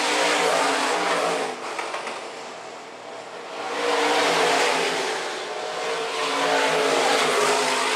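Stock cars race around the corners of a dirt oval, a dense roar of engines swelling and fading as the pack passes, continuous and loud throughout.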